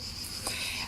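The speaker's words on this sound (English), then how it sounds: "now I'm not in Denmark, you can hear the cicadas" Cicadas droning outdoors on a summer day, a continuous high buzzing chorus that fills the background at moderate loudness, with no talking.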